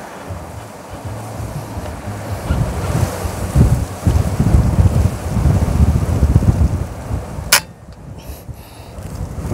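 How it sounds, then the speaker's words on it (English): Strong gusting wind buffets the microphone outdoors at an airgun target-shooting range, a loud rumbling roar that surges and fades throughout, with a sharp crack near the end. "Oh, the wind is so strong."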